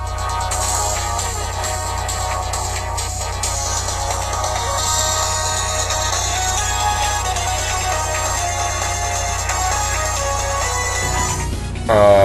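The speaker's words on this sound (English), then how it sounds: "my call ringtone is actually Ryu's theme from Tatsunoko vs." A phone ringtone plays Ryu's theme from the fighting game Tatsunoko vs. Capcom, a continuous loud melodic tune heard alone, with a brief burst of noise as it cuts off at the end.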